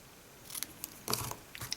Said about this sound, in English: I'll cut the end